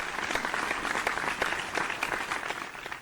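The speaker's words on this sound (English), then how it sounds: "Another round of applause" Audience applause at a televised vocal competition show, a dense, steady patter of many hands clapping continuously throughout, moderately loud and without talk.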